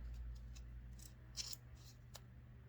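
Scissors snipping yarn strings for a beginner crochet scarf, a few short, faint crisp snips spaced apart over a low steady background hum.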